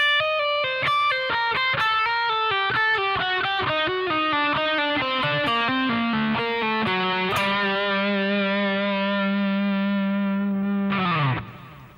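Distorted electric guitar rips through a quick lick of hammer-ons and pull-offs, then settles on a long sustained note before a sudden sliding cutoff, loud and alone.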